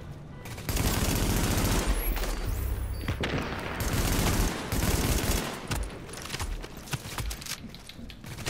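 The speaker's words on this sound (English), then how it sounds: "I'm getting shot at" Sustained rapid gunfire and heavy bursts crowd the scene of a Tom Clancy's The Division firefight, loud and dense with shots rattling continuously throughout.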